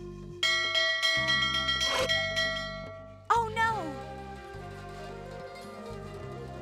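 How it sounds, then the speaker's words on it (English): Alarm bells clanging in a village under attack in an Avatar video game, rapid loud repeated ringing strokes with a voice exclaiming partway through. "Those bells mean the village is under attack."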